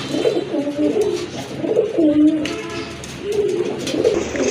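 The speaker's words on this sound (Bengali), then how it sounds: "আর এখানে কিন্তু আরেক জোড়া কবুতর দেখতে পাচ্ছেন" Soft, throaty cooing of pigeons kept for sale rolls on steadily throughout, several low burbling coos overlapping against faint background noise.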